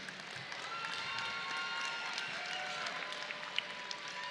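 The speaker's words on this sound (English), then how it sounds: "Ladies and gentlemen, once again, first-time fighters, give them a loud round of applause." Crowd applause at a live boxing event, dense continuous clapping from a large audience filling the whole stretch at an even level, with faint voices mixed in.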